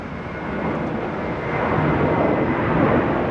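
At JFK, a JetBlue Airbus A321 bound for Fort Lauderdale lifts off, its jet engines a steady, dense roar that slowly swells louder.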